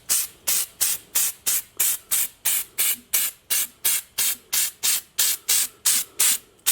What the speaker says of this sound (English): I'm going to paint this with some Steel It